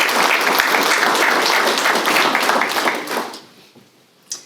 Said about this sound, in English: So a round of applause for Cameron.